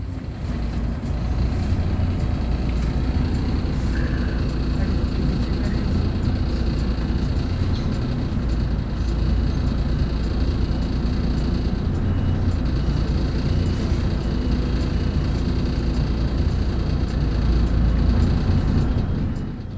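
A tourist bus reverses along a narrow road, its heavy engine giving a steady, loud rumble that lasts the whole stretch, with no voices.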